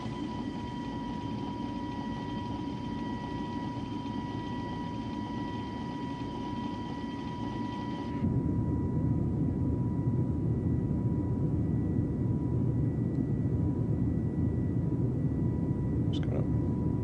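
Airbus A320 jet engines roar at climb thrust in Microsoft Flight Simulator, a steady broadband cabin drone with a faint whine that briefly thins, then swells louder and rougher for the rest, with no talking.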